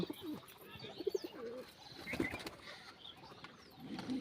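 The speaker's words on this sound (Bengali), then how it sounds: "এই দেখো একদম এক জোড় মানিক, খুব সুন্দর পায়রা দুটো।" A pair of Manik pigeons coo softly in short, repeated bursts, faint and somewhat distant, with light rustles and a brief flutter in a quiet setting.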